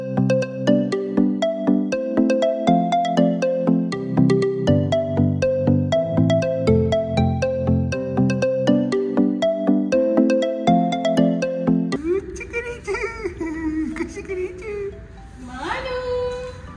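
A phone ringtone plays a loud, repeating electronic melody with a steady rhythm for about twelve seconds, then stops as a voice begins talking.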